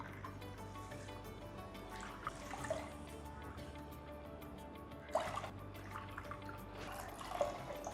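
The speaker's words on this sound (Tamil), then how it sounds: "இதுக்கு 4 கப் கிட்ட தண்ணி விட்டுக்கிறேன்" Water is poured from a cup onto washed jeeraga samba rice in a pot, a faint steady trickle and splash with a few small clinks, quiet and close in a home kitchen.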